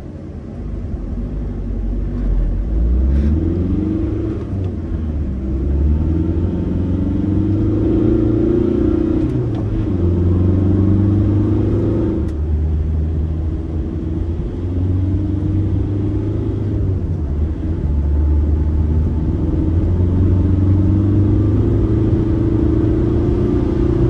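A high-mileage 2006 Volkswagen Jetta on the road, its engine a steady low rumble with gear changes rising and falling across the run, loud and close from inside the cabin with no talk.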